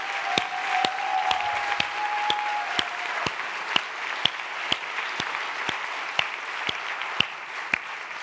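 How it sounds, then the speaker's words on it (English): Steady round of audience applause at a business interview event, dense clapping at an even level, with regular sharp ticks cutting through it. "So can we give her a big round of applause?"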